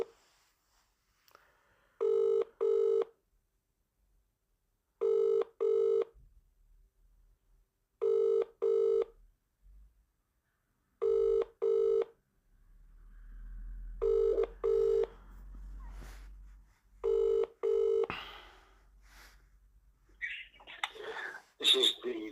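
An outgoing telephone call rings repeatedly, with paired electronic ring bursts recurring every three seconds at a moderate level. Faint low rumble and brief handling noises follow, and voice sounds emerge near the end.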